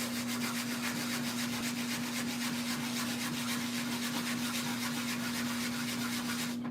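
A Morgan coin ring being sanded with 100 grit sandpaper, a soft, steady rubbing scrape repeating in quick strokes, close and fairly quiet over a constant low hum.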